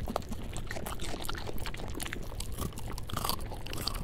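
Crunchy, wet chewing of carrots in the video game Carrots and Cream, a steady run of close mouth-noise crunches and smacks lasting several seconds with no talking.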